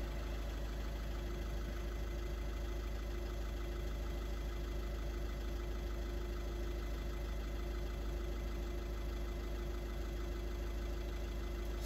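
A Volkswagen engine idles steadily during injector compensation adaptation, a constant low rumble and a faint whine, unchanging throughout with no voices.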